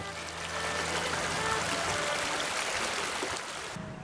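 Spring water from a Qing Dynasty channel flows by the Jiaoxi River as a steady stream, with a broad, continuous rushing trickle at close range and no voices.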